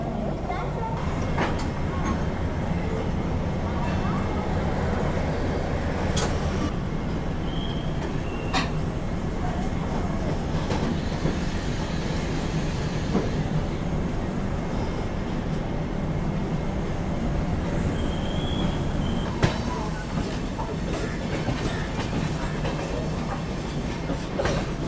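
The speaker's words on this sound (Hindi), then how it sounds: "ये वाली जो आप लोग ट्रेन जाते हुए देख रहे हैं ये निकल गई दोस्तों आप लोगों की हज़रत निज़ामुद्दीन की ओर" A train bound for Hazrat Nizamuddin passes, seen from aboard the Kashi Vishwanath Express, as a steady rolling rumble with light clickety-clack throughout, someone talking over it.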